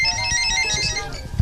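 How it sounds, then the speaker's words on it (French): A mobile phone ringtone sounds indoors, its bright repeating electronic tones running steadily through the whole short stretch over low room rumble and faint background noise. "Portable qui se met à sonner là."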